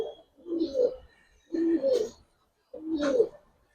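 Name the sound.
Giribaj pigeon pair cooing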